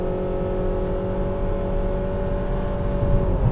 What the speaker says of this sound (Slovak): Auto letí dopredu, otáčky sú vysoké.